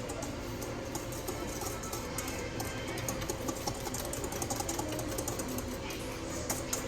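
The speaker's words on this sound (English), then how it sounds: "we're gonna go ahead and just whisk the dry ingredients together so that it's well incorporated." Flour and salt whisked together dry in a mixing bowl for homemade blueberry biscuits, a steady close scratchy rustle with quick repeated strokes running throughout, no talking.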